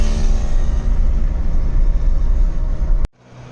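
Road noise inside a car driving at about 80 on a smooth, freshly surfaced VIP road: a loud, steady, broadband roar and rumble that cuts off abruptly near the end, leaving a much quieter hum.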